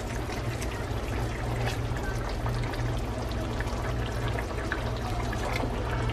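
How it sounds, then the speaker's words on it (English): Gravy splashing and pouring into a pot of curry with salmon, a steady liquid sloshing and trickling that runs loud and close throughout with no talk. "And splash out a little gravy."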